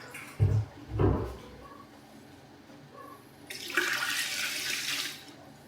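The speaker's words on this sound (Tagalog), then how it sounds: "Salin ng tubig." Water pours steadily into a container while a vitamin B complex oral solution is being mixed. A couple of soft knocks come first, then a loud, close, rushing stream lasts about two seconds.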